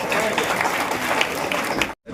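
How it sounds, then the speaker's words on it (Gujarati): An audience at a student award ceremony in Godhra claps in a steady, fairly close round of applause while a voice speaks over it, ending in a sudden cut. "જોરદાર તાળીઓથી વધાવીએ મિત્રો"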